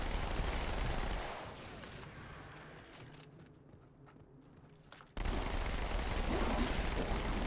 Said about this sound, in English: Get ripped apart by SMG fire.